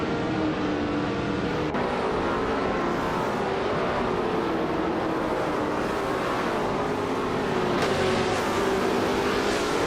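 Racing car engines drone continuously during a race, including a 1969 Le Grand Mark 11 and a 1968 Lotus 70, with steady loud engine tones shifting in pitch as cars accelerate, sustained throughout with no speech.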